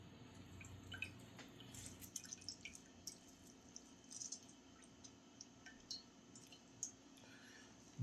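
Liquid from homemade ricotta cheese dripping steadily into a container, irregular small drips and ticks over a low background hum, close but faint.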